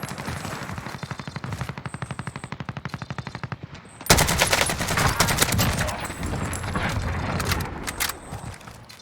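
Automatic gunfire in the video game Warzone, a rapid rhythmic burst of shots for several seconds followed by a louder, denser barrage of fire with scattered mechanical clicks, close and dominant with little talk.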